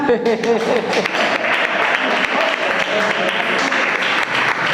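Church congregation applauding during a sermon, a steady wash of clapping from many hands with a voice speaking over it early on.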